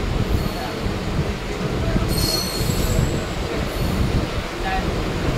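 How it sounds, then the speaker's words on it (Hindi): The Patna–Barauni passenger train pulls out of Paleja Ghat station, wheels rumbling and squealing on the rails in a steady close roar with faint brief voices. "पटना बरौनी पैसेंजर ट्रेन निकलती हुई पालेजा घाट रेलवे स्टेशन से"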